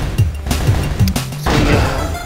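Bombs going off in the game Ultimate Briefcase during coin farming: a quick run of punchy, crashing hits and thuds, followed by a denser burst of blasts near the end.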